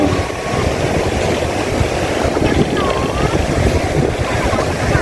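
Wind and breaking waves at Gondariah beach in Pariaman, West Sumatra, make a loud, steady roar with blustery gusts buffeting the microphone throughout.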